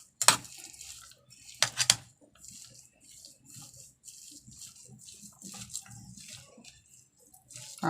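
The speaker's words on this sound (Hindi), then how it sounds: "इस तरह अच्छी तरह इसको मिक्स कर लेंगे" Spoon scraping and clinking against a bowl as chicken filling with black pepper and mayonnaise is mixed, giving sharp metallic knocks at the start and middle over soft, wet, intermittent stirring.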